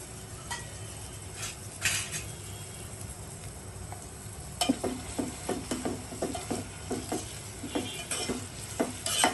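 Onions frying with a pinch of sugar for beresta, crisp fried onion for a deshi chicken rezala, give a steady near sizzle, joined partway through by a run of rhythmic scraping and stirring clinks against the pan.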